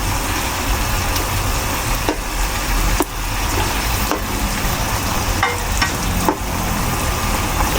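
Pork binagoongan fries in oil in a pan with a steady, loud sizzle, while a spoon scrapes and stirs through it in occasional sharp strokes.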